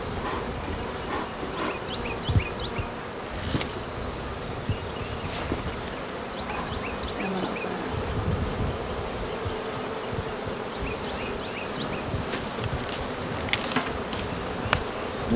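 Dense, steady buzzing of a honey bee swarm around an open beehive frame, close and continuous, with faint chirps and small knocks scattered through it.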